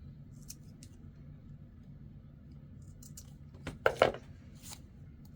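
Scissors trim off pieces of a Dollar Tree Easter chick craft, giving a few quiet snips and a sharper cluster of cuts near the end over faint room noise.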